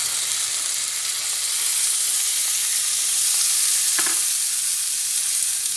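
Chicken pieces sizzle loudly in a hot pan for tandoori tawa chicken, a constant bright hissing fry with a brief utensil scrape near the end.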